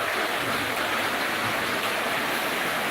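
Heavy rain pours steadily through the night during a flood, a dense, continuous hiss filling the space close by with no breaks and no voices.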